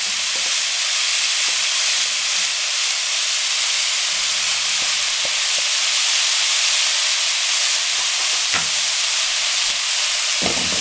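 Kachori filling with spices roasts in a pan, giving a continuous loud hiss with a few faint scrapes from stirring.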